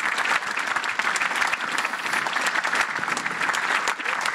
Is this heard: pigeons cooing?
no